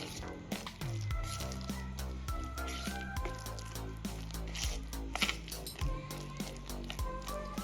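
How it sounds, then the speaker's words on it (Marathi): Oil is stirred into moong dal pakora batter, making repeated wet squishing and sloshing strokes at a steady rhythm, close and fairly quiet, with no talking. "आता हे ऑइल एकदा बॅटरमध्ये मिक्स करून घेऊया"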